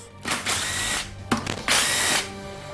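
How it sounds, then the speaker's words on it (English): A power tool buzzes in two loud, close bursts, each lasting under a second, while bolts are run in on the valve body of an Acura Honda transmission. "I tightened up these 3 bolts at 13 foot-pounds"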